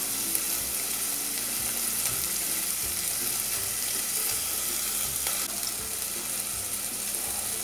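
Chicken breast pieces fry in a pan for a strogonoff, giving a steady, close crackling sizzle with faint scraping and no voices.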